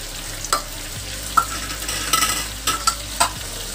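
Chicken with yogurt and spices sautéing in a pan, a soft steady sizzle broken by sharp scraping stirs of a spoon against the pan at irregular intervals, fairly close.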